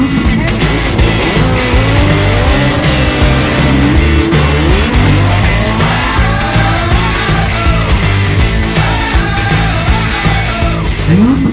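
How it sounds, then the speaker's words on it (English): Supercars rev and accelerate along an airport runway at an outdoor car show, loud engine roar with rising and falling pitch sweeps and some tire squeal as several cars pass close by in steady succession. "we've got some just incredible cars going up the runway"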